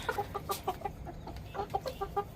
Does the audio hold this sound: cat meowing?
no